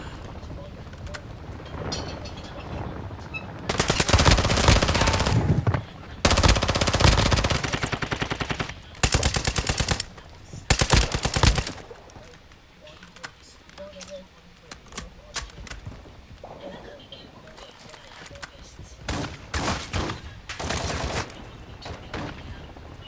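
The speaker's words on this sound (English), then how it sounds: "You are taking effective fire." Bursts of automatic gunfire in a military shooter video game, some loud and sustained and others short and scattered, with in-game radio voice lines between them.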